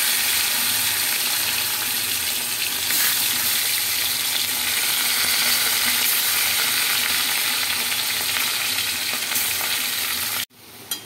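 Turmeric-coated hilsa fish pieces fry in hot oil in a pan, giving a loud, steady, dense sizzle that runs unbroken for about ten seconds before cutting off abruptly.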